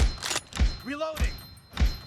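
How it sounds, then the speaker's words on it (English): Gun reloading in PUBG Mobile, an M24 sniper rifle in an arena team deathmatch: four dull, evenly spaced mechanical thunks and clacks, close and fairly loud, with a short voiced exclamation between them. "Reloading!"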